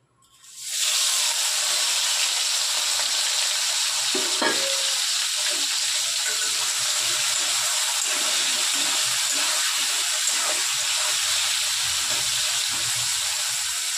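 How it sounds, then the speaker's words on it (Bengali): Prawns hitting hot oil, a loud broadband hiss that flares up suddenly and holds steady as a close, continuous sizzle with faint crackles, no talk. "চলো মাছগুলো ভেজে নিই।"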